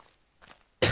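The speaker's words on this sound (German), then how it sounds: "Ah, fucking Husten." A single sharp, loud cough bursts out at the very end after near silence, preceded by a faint soft breath or throat sound.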